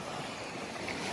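Strong cold wind gusting at a lake, a steady loud roar of buffeting wind against the microphone, with no pauses.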